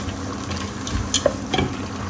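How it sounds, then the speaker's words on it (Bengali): Vegetables frying in a pan with chopped garlic, a steady close sizzle with a few soft stirring scrapes and brief clinks, no talking. "প্রথমে সবজিটা একটু ভেজে নেব রসুন কুচি দিয়েছি"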